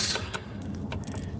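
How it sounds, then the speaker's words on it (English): A ratchet working loose the oil pan bolts on a 2000 Honda Civic: a quick run of light mechanical clicks and creaks, close and steady, over a constant background hum. "Alright, now we're gonna start removing all the bolts."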